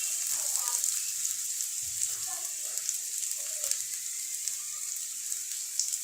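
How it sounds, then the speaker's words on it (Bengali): Onions frying in a pan for a sarputi fish curry, giving a steady, moderately loud hiss of sizzling oil that runs evenly through the whole stretch with small crackles on top. "এখন নিব একটু পেঁয়াজটা একটু ভাজা করে নিব,"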